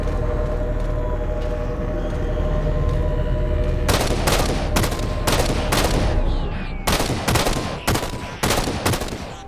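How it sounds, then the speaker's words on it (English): Gunfire in the Halo 4 video game: after a steady rumbling background, a loud run of rapid, evenly spaced shots bursts in, pauses briefly, then resumes in another quick volley. "Taking fire, starboard side!"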